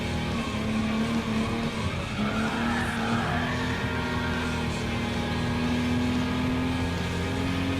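Classic Jaguar E-Type in Gran Turismo Sport at Barcelona, braking hard with tyres skidding and squealing in one long continuous screech over a steady engine drone, loud and close.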